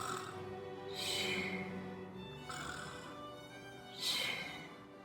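A group of children imitate snoring at story time, three breathy snore-like sounds in slow succession, fairly faint, with soft murmuring in between.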